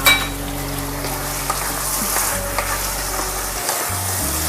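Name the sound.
chili being added and stirred in frying pan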